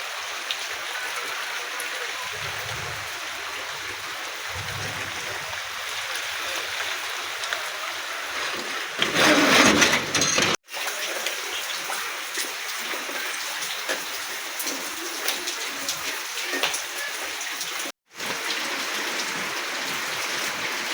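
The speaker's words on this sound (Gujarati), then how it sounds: "અત્યારમાં વરસાદ ચાલુ છે" Steady rain falls without a break, a dense broadband hiss that swells briefly to a louder burst midway, with a couple of abrupt dropouts.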